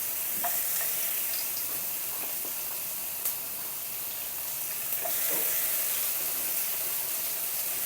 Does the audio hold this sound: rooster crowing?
no